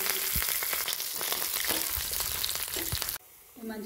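Fenugreek seeds, mustard seeds, dried red chillies, crushed garlic and curry leaves crackling in hot oil, a loud dense sizzle with sharp pops that cuts off abruptly, leaving a quieter hiss.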